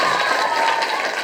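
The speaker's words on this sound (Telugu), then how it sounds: "మీ అందరికి ఒకసారి గట్టిగా క్లాప్స్" Students at a tree-planting rally in Rangampet break into loud, sustained applause, a dense wash of clapping held steady at close range for the whole moment.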